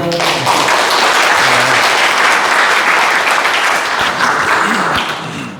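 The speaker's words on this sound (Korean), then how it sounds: "고성 박사님을 위해서 다시 한번 큰 박수 부탁드리겠습니다." Audience at a humanities lecture in Yanggu breaks into loud, sustained applause that fills the room, dense and steady for several seconds before easing slightly at the end.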